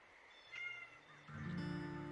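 A cat lets out two soft, drawn-out meows, faint and somewhat distant, with a quiet room tone behind and no talk over them.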